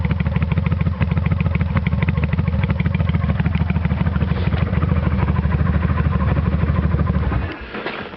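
A Kawasaki VN800 motorcycle with debaffled exhaust pipes idles close by with a loud, lumpy, rapid throb, then the engine note cuts away sharply near the end.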